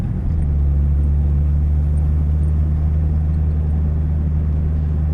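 Low, steady engine rumble and droning hum from inside a Jeep being driven with its rear jacked up and no shocks, continuous and close with no voices.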